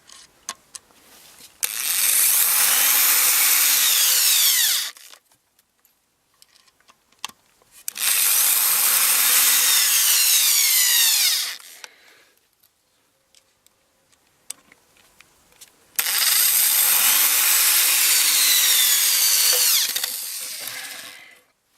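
A Zenit ZSh 550 corded electric screwdriver whirs loudly and up close in three separate bursts of about three seconds each as it drives small screws, with quiet pauses between runs.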